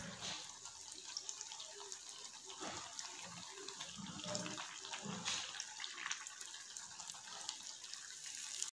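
Honey ball sweets fry in hot oil, giving a faint, steady bubbling hiss with soft crackles throughout.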